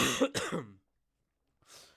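A man who is still sick clears his throat harshly and coughs twice up close, then falls silent before a softer, breathy cough or exhale at the end.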